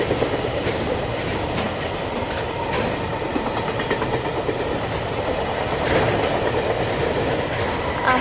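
Mitali Express passenger train rolling along the rails in India, a steady loud rumble of wheels on track with faint rhythmic clickety-clack and occasional clanks, continuous throughout.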